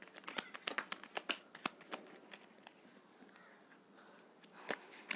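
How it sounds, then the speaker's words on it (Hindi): Tarot cards are shuffled in quiet, close bursts of crisp flicks and riffles, fading for a moment before a few more snaps. "एक मिनट, अच्छे से शफल नहीं हो रहे कार्ड।"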